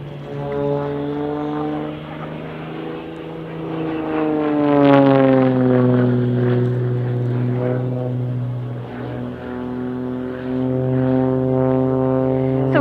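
Propeller-driven aerobatic aircraft of the Blades display team fly past at an airshow, their engine drone rising and falling in pitch with a clear Doppler sweep as they pass and roll, loud and sustained throughout.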